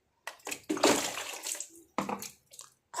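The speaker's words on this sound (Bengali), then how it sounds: "আমি এখন মুখ ধুচ্ছি, ব্রাশ করছি" Tap water running in bursts during morning face washing and tooth brushing, splashing and sloshing close by in several irregular spurts separated by short quiet gaps, with no talking.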